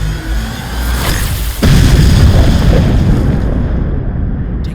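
A loud explosion sound effect in a fantasy war audiobook: a heavy boom bursts in near the start, then a second, bigger blast rumbles on and slowly fades, with no voice over it.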